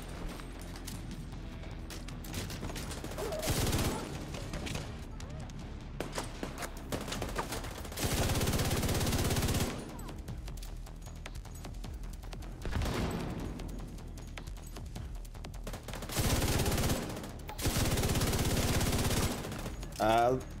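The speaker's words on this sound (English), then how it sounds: "The rate of fire on this is insane when it gets the skull attached to it." Rapid automatic gunfire from a skull-attached weapon in the video game The Division 2 comes in long, dense bursts with brief pauses between them. The shots are loud and sit over a steady layer of game background noise.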